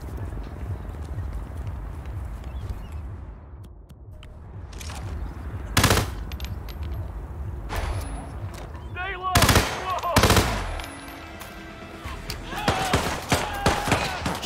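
Gunfire in the video game Hitman 2: scattered loud shots and short bursts ring out over a low, rumbling ambience, spaced unevenly through the stretch with clusters near the end.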